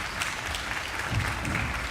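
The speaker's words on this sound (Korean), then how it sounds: "우리 너무나도 멋지게 연주해준 더 뉴스 오케스트라 친구들에게 다시 한번 큰 박수 부탁드립니다" Brief burst of audience applause at an orchestra concert after the youth orchestra performs Mozart's Symphony No. 25, a dense, steady wash of clapping.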